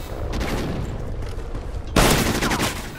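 Gunfire in a shooter video game, a steady rattle of shots that jumps into a louder, denser burst about two-thirds through, close and with no talk.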